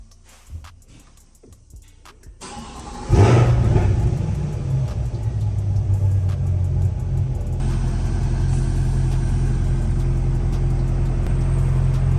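A 2022 Chevrolet Corvette C8 cranks after a few quiet clicks and fires up, settling into a loud, steady idle rumble that continues close by without talk.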